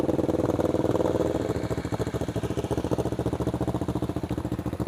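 A 1984 Suzuki GR650 motorcycle engine idles warm, a steady low throbbing that runs alone without pause and is heavier for its first second and a half.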